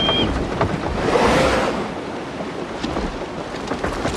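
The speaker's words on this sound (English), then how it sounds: "Just listen to that rain." Rain in the video game Assassin's Creed Shadows makes a steady, broadband wash that swells briefly and then holds at a constant level, with no talking.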